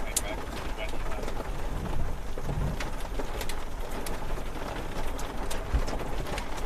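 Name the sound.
pouring rain and hail during a storm chase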